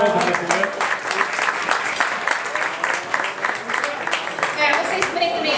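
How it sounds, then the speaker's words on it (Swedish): Warm applause from a crowd at a Swedish kickoff gathering with nominations, sustained dense clapping with distinct hand claps standing out, fairly loud and continuous, with some voices mixed in. "En varm applåd."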